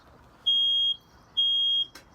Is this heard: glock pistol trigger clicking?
no